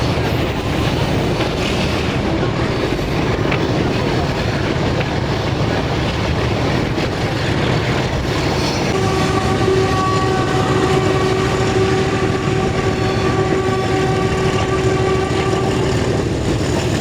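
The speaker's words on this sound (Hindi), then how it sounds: "आवाज़ सुन सकते हैं आप इंजन की।" A locomotive on the Rawalpindi to Havelian line labours loudly up a gradient on a long curve, its heavy engine drone and rolling wagons constant throughout, with a sustained horn-like tone joining partway.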